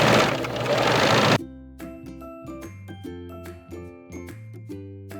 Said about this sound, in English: put the sweater under the machine and sew up that hole